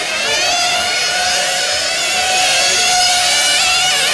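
Nitro-powered 1/10 scale RC racing car engine going out of tune during an A-main race, a loud, continuous high-pitched whine with wavering tones that drift and rise, heard alone without commentary.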